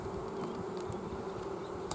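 Honey bees buzz steadily and loudly at a freshly made hive split, a dense continuous drone with a few individual bees passing close by.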